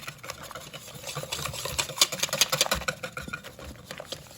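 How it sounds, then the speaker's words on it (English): A whisk beats flour into a batter for albacore tuna fish and chips, making quick, uneven wet taps and scrapes at close range that build toward the middle and then ease off. "I'm gonna start whisking with the other"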